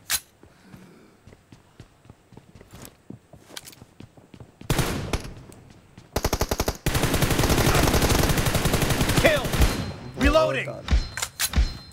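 Rapid automatic gunfire rattles through a PUBG Mobile team deathmatch played on a Xiaomi Mi 10T, with sparse shots at first, then long dense bursts, and someone talks excitedly over it.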